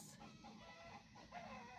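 Chickens cluck faintly in the background, a low continuous murmur of hens with a few slightly louder calls toward the end, no voices over it.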